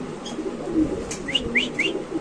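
Black short-faced pigeons, a male and female pair of young birds at a market stall, give several soft coos and chirps close by over a low background murmur.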